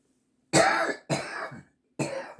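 A woman with a scratchy throat gives three loud, close coughs and throat clears, each separated by brief silence.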